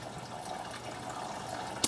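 Engine coolant drains from a radiator hose on a 2012 Prius V during a 2016 engine swap, making a faint, steady trickle that ends in a sharp click.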